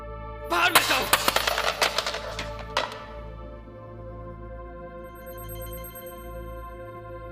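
A telephone rings in a Hindi-dubbed Hollywood action film, a sustained electronic ringtone under a low rumbling score, with a burst of sharp rapid cracks like gunfire early on.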